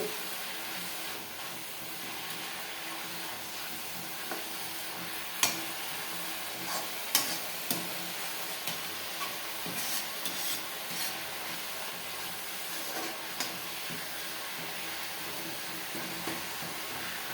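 Drumstick leaves and banana flower sautéing in a pan, a soft continuous sizzle with occasional sharp scrapes and taps of a spoon, close but fairly quiet, no talking.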